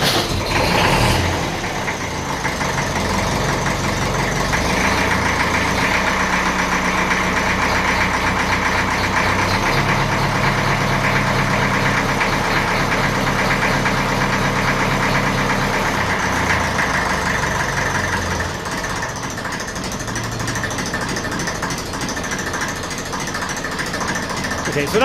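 The diesel engine of a 1954 Ferguson 20 TEF tractor runs loud and steady, its revs rising and holding with a rough knocking chug, then easing back toward idle near the end.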